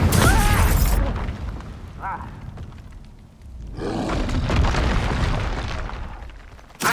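Fire spells in Hogwarts Legacy, Confringo and Incendio, bursting in loud roaring explosions, one big blast fading then another swelling roar and a sharp pop at the end.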